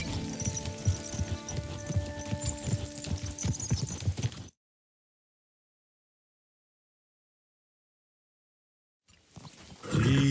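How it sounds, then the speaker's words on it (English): Horse hooves clip-clop steadily at close range while riding in Kingdom Come: Deliverance II, a busy stretch of game audio that drops to silence midway before sound returns loudly at the end. "Is this your first time riding a horse"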